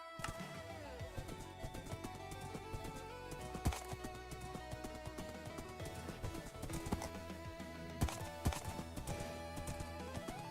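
A horse in a survival video game trots along with rhythmic, clopping hoofbeats and an occasional whinny, set against a busy layered game soundtrack at moderate volume.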